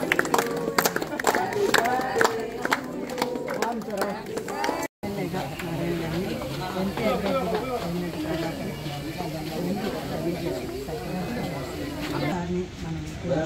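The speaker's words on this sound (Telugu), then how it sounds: "హ్యాపీ బర్త్డే క్రాంతి క్లాప్ కొట్టండి" A crowd claps at a birthday, with loud rapid hand claps at the start under overlapping voices, then chatter and background noise as the clapping fades.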